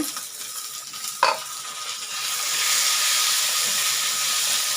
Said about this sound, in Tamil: கொத்தமல்லியும் கருவேப்பிலையும் சேர்த்துக்கலாம் ஏன்னா அது சட்டின்றதால அந்த சூட்லேயே வதங்கிடுங்க